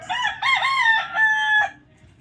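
A rooster crows once in a backyard, close and loud, a wavering multi-part cock-a-doodle-doo that ends abruptly, with no other sounds.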